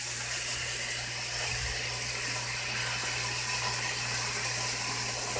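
Water gushes steadily from a tap into a noodle pot, a continuous close rushing with a low hum behind it and no talking.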